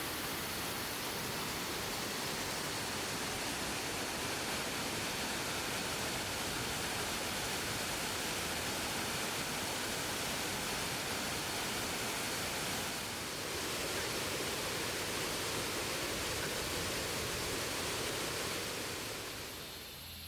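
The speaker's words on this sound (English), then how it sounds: "I saw the first tremendously big waterfall" A large waterfall on Thailand's tallest mountain roars in a constant, dense wash of rushing water, loud and unbroken for the whole stretch, with no voices.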